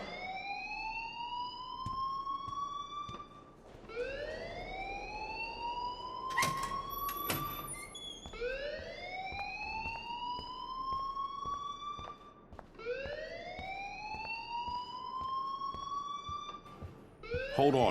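A rising-and-falling siren-style alarm wails in repeated sweeps inside the video game Life is Strange, steady and moderately loud, with a brief sharp clatter partway through.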